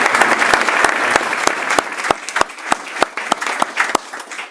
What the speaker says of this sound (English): Let's give those guys a round of applause for the service they give.